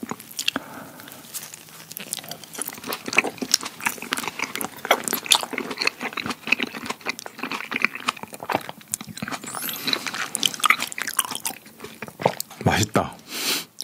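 Shine Muscat grape mochi being eaten, with soft close chewing and sticky mouth sounds running steadily throughout, a few louder crunchy bites among them.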